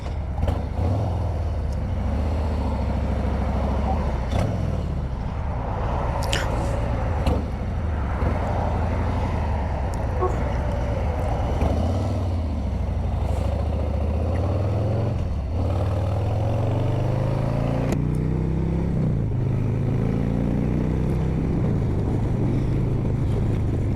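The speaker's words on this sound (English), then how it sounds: "This bike has got so much low-end grunt" Harley-Davidson Heritage Softail Classic 114 motorcycle riding on the road, with a steady low-end engine rumble, gear changes and rising revs, mixed with heavy wind noise throughout.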